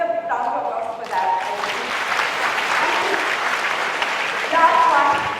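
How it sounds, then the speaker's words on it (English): A student conference audience breaks into loud, sustained applause, dense clapping filling the hall after a brief moment of room tone, with a few voices rising at the end. "I need a round of applause for that."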